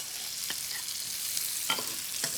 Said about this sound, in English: We're gonna add in all the aromatics. So the garlic, the ginger, the onion, the chilies,